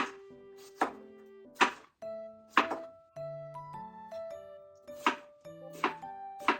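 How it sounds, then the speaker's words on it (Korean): A knife slices a cucumber lengthwise into strips on a board, giving sharp, separate chops at an uneven, unhurried pace, each with a light ringing knock, fairly quiet and with no voices. "먼저 오이 썰어줄게요. 오이는 길게"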